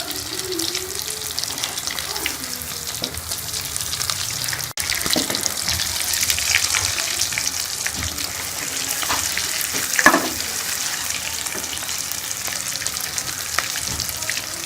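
Chicken bread rolls, also called double roti rolls, fry in a pan of hot oil with a steady, dense sizzle that runs throughout, while a brief clatter from turning the pieces over breaks in partway through.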